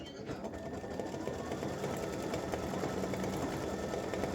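An embroidery machine stitching rose veins on a mug rug, a fast steady mechanical whirr and needle rattle running close and unbroken throughout.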